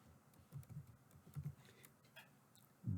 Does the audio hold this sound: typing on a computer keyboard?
yes